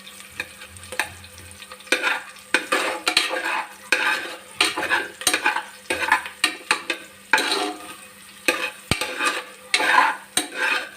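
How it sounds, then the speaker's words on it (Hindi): Onions frying in a pan for a masala baingan curry, stirred steadily with a utensil, giving repeated scraping and clinking strokes over a light sizzle, close and fairly loud. "अच्छे से हिला लीजिए, जब तक प्याज नहीं लाल पड़ता तब तक हिलाते ही लीजिए"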